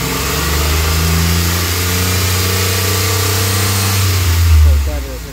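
A car engine with a P0300 misfire fault revs up from a steady drone, holding a loud, sustained run before climbing briefly near the end, close and alone.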